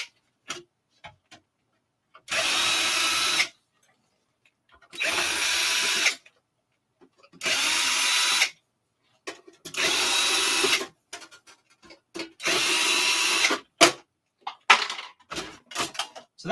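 A power screwdriver backs screws out of a plain metal plate fastened to the bottom tray of a TRS-80 Model 4P computer, running in five separate whirring bursts of about a second each, with clicks and light handling noises between them.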